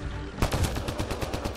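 Rapid automatic gunfire in the video game Mass Effect Andromeda, bursting in suddenly after a quiet moment and continuing as a fast, loud, evenly spaced volley of shots.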